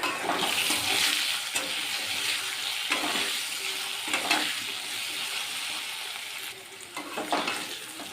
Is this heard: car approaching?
no